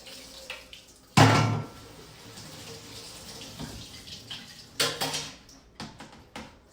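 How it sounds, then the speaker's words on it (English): Canned artichoke hearts are rinsed and drained under a kitchen tap for a slow cooker tortellini soup, opening with a loud burst of running water, followed by scattered splashes, clinks and faint dripping. "So I'm going to go ahead and rinse and drain these"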